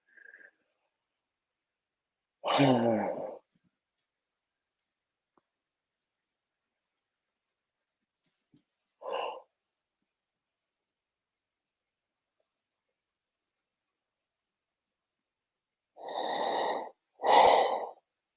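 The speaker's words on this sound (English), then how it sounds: "oh, that was a beautiful yawning" A person yawns aloud during a guided stretching meditation, one long drawn-out yawn near the start, a short breathy exhale midway, then two more yawning breaths close together at the end, near and fairly loud against otherwise silent pauses.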